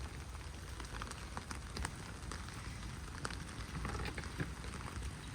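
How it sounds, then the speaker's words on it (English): Steady rain falling outdoors, a dense continuous patter on surfaces with scattered louder drops, fairly even in level throughout. "It's currently raining."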